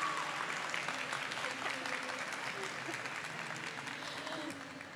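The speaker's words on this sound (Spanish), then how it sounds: "Vamos a robarnos los aplausos de al lado." Muffled applause carrying over from a neighbouring hall at a book fair, a steady wash of clapping from a distant crowd that slowly fades, with faint voices mixed in.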